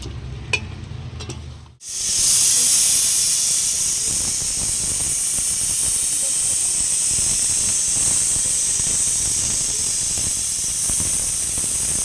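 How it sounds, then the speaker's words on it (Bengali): A pressure cooker of mutton on the stove gives off a loud, steady jet of hissing steam that runs without a break after a short clatter and a brief drop to near silence. "এবার আমি প্রেশারে সিটি দেব"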